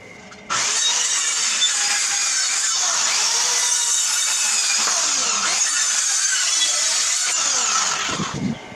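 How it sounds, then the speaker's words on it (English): A power saw cuts a three-inch overhang off a board while building a mini overland camper, running as one loud, steady whine for about eight seconds before stopping abruptly, with no talking. "I'm going to cut off 3 inches, 3 inches, 3 inches overhang."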